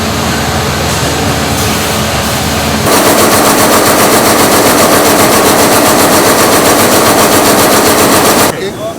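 A textile machine at the Rivatex factory in Eldoret runs loud and close, a dense rapid mechanical clatter that jumps to an even harsher steady hammering partway through and then cuts off near the end.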